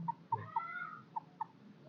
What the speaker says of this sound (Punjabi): ਤੁਸੀਂ ਮੁਰਗੇ ਦੇਖ ਲਓ